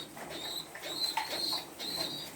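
Pigeons in a loft coo softly while eating their daily feed, several repeated low coos close by in a steady rhythm with no talk.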